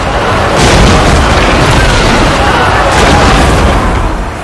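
Artillery fire in a siege battle video game, Vampire Coast against High Elves at a gate, a loud continuous rumble of overlapping booms and blasts with no break throughout.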